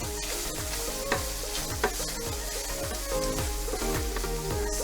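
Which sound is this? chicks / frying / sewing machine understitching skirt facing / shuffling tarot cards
frying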